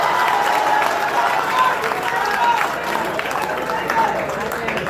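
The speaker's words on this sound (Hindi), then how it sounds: "एक बार जोरदार ताली इस्तकबाल में बजाइए।" Steady, dense applause fills the hall at an all-India Urdu mushaira, a large audience clapping loudly and continuously for several seconds, with a faint crowd murmur blended in.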